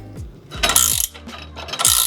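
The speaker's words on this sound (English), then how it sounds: "Rotate the wrench handle clockwise." Ratchet socket wrench clicking as its handle is turned clockwise on an iCrimp IWS-1632CF copper fitting press tool; three separate bursts of close, loud ratcheting with short pauses between, no voices.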